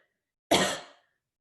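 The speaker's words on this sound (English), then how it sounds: "I want you to do a little cough here." A single short cough, close and fairly loud, in otherwise quiet surroundings.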